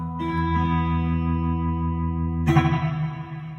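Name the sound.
guitar pedal spring reverb, Fender amp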